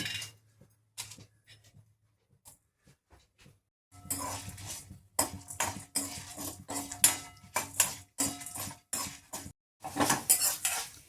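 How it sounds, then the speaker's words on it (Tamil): Lentils and spices roast in a little oil in a pan. After a nearly quiet start, a spatula clinks and scrapes against the metal in irregular, close bursts. "அடுப்பை பற்றவிட்டு இலுப்பச்சட்டி போட்டு சிறிதளவு எண்ணெய் விட்டு காய்ந்த பின் இந்த 3 சாமானையும் போட்டு வறுக்கவும்"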